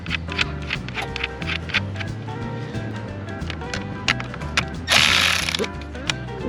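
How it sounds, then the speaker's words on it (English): A ratchet tightening a bolt back on under a 2020 Silverado during a fog light install, with a fast, steady run of close clicks and a brief rushing burst near the end. "Put our bolt back on."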